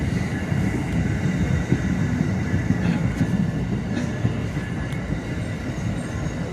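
A train rolls past close by, a loud, continuous low rumble of wheels and cars with a faint squeal on top, steady throughout.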